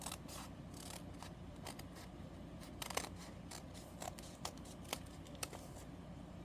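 Scissors snip and trim paper for a junk journal at close range, a series of quiet crisp cuts and rustles in an irregular rhythm.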